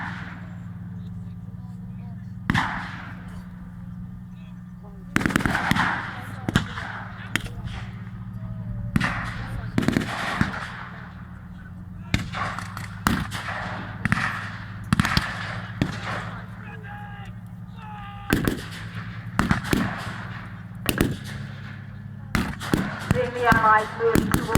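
Sharp gunshot reports from a WW2 battle re-enactment with Allied troops advancing across an open field toward German positions, sounding as scattered single cracks and short bursts over steady low engine rumble, with talk in the background.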